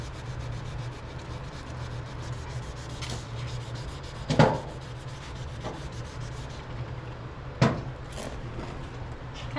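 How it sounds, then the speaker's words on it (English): A small square sanding block rubs back and forth over a yellowed car headlight lens, giving a close, steady scratchy scrubbing with a few sharper knocks and scrapes scattered through, no voices. "I went and got the block we use. It's just a little square block."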